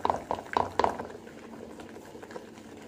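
Batter for prawn chops is beaten by hand in a bowl, four quick rhythmic strokes up front, then softer, sparse scraping as the mixing slows.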